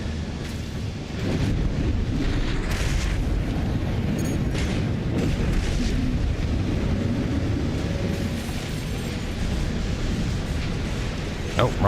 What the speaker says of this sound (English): Oh, rockets.